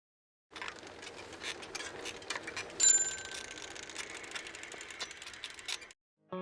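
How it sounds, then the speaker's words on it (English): A bell rings out with a ratcheting mechanical texture, holding steady and then fading away into silence. "so I can hear the bell ringing out a little bit"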